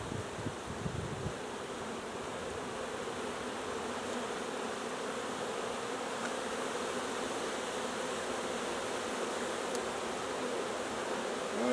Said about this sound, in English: That's a lot of bees in there.